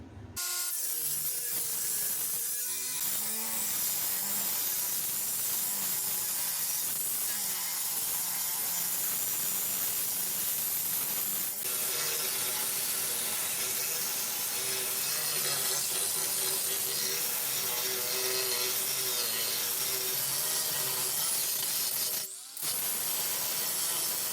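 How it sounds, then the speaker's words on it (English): An angle grinder fitted with a 4.5-inch diamond blade cuts steadily through a cast iron bathtub, a loud continuous grinding whine with a brief drop near the end, no talking over it. "we're going to just make one more cut with the diamond blade here and make 2 more pieces"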